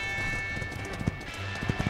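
Horse hooves clip-clopping in the battle game Totally Accurate Battle Simulator, a Wild West faction fight, with scattered soft hoof knocks under a dense, continuous wash of game noise and music.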